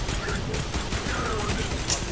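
A weapon in Destiny 2 fires in rapid bursts during a mission, giving dense, continuous crackling gunfire that stays loud and close throughout, with a voice talking underneath.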